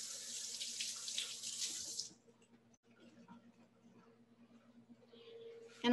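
Tap water runs loudly into a sink as a sharp knife is rinsed during Persian baklava preparation, a steady rushing stream for about two seconds before cutting off, followed by quiet kitchen sounds.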